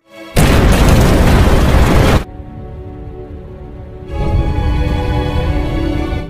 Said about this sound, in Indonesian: menekan tombol pemicu yang seketika terjadi ledakan